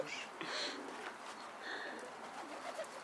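Pigeon cooing, faint and a little distant, in one soft burst near the start and weaker calls later over a steady background hiss, with no talk.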